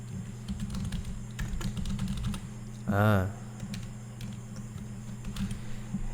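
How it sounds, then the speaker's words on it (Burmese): Keys tapped on a computer keyboard while entering header and footer text in a document, a quick run of close clicks under a steady background hum with brief speech. "စာရိုက်လိုက်မယ်ပေါ့နော်"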